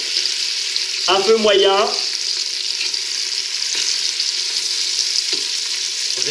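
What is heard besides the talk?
rabbit and onions browning in a pan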